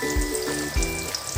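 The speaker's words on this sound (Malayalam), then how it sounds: "4 വെട്ടി വറുത്തെടുക്കാം." Banana slices frying in hot oil in a home kitchen, a steady close bubbling hiss with soft crackle and faint tonal hum underneath, no voices.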